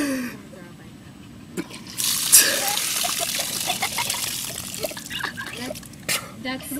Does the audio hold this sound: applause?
no